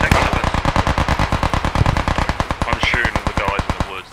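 Sustained machine gun fire from the video game Post Scriptum, a steady rapid stream of loud, closely spaced shots hammering for several seconds, with faint voices barely audible in the background.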